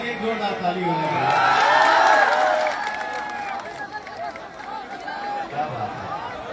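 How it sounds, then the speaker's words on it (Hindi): Crowd at Pawan Singh's election nomination in Karakat cheers and claps loudly, a roaring swell of voices and whoops peaking in the first seconds, then settling into busier chatter and scattered clapping, with someone speaking over it. "भाई के लिए जोरदार ताली हो रही है।"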